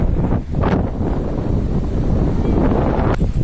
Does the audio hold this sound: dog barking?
no